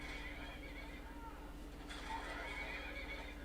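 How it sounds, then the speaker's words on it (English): Horses neigh and whinny in a video game amid steady game ambience and faint hoof clip-clop, moderately quiet throughout. "Oh, nice, the horses."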